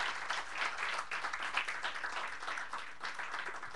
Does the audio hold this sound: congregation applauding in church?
yes